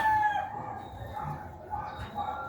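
A Gilmore Hatch rooster crows in a drawn-out call at a backyard poultry pen, heard at moderate distance over steady low background noise.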